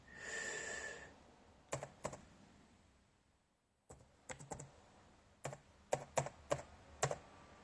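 Keys clatter on a computer keyboard as a password is entered, a series of sharp, close clicks in uneven bursts after a brief hiss and a quiet pause.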